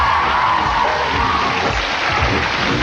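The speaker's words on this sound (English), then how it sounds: "Give him a big round of applause, guys." Crowd cheering and clapping for a game show contestant, a dense roaring wall of whoops and applause held loud and steady throughout.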